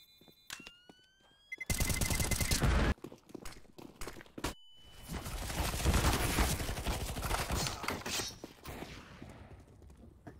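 Rapid gunfire in Counter-Strike: Global Offensive, an unsilenced rifle spraying in a loud sustained burst, then scattered shots amid round noise, with hoofbeat-like clatter of footsteps.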